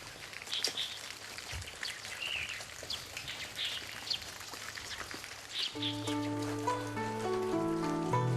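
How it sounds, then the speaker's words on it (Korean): Spring rain patters steadily on a quiet country village, a soft, faint hiss of drops with occasional bird chirps, before music swells in over the last seconds. "한적한 시골 마을에는 봄비가 내리고 있었습니다"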